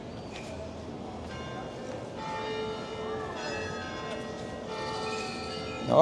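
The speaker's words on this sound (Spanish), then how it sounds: "Las campanas de las iglesias." Church bells ring out over the old quarter of Casco Antiguo in Panama, repeated tolls with lingering overtones carrying across the street amid distant voices and city murmur.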